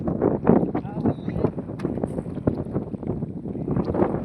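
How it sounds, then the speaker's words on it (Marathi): Strong wind gusts outdoors in a village, a rough, buffeting rumble hitting the microphone close up and rising and falling unevenly, with a voice faint underneath. "हा मस्त हवा सुटली."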